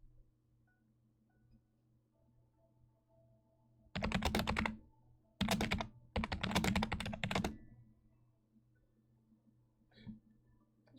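Clicky computer keyboard typing arrives in three bursts of rapid, crisp keystrokes, loud and close, separated by short pauses over a faint steady hum, with no talking.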